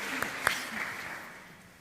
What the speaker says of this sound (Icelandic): við skulum bara klappa